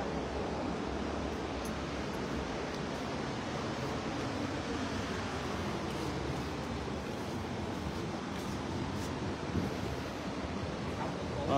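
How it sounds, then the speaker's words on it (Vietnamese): A stream flows steadily near Linh Ẩn Pagoda in Nam Ban, Lâm Đồng, its continuous broadband rush of water filling the scene at an even, fairly loud level with no breaks and no talking. "Bên đó dòng suối chảy quá chảy rồi nha"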